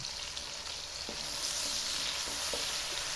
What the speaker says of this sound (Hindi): इनको अच्छे से फ्राई कर लेंगे